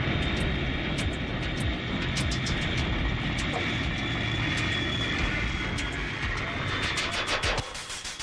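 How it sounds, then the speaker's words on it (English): A loud, roaring jet airliner passing low overhead on landing approach with flaps extended, a broad steady rumble and hiss that begins easing off near the end. "most turbulence occurs when giant airliners extend their flaps to slow down for landing"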